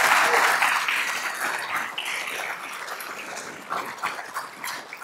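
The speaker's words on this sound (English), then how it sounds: "Please give Kristen a round of applause." Audience applause at a full program event, a loud wash of clapping that gradually fades and thins to scattered claps and some crowd noise toward the end.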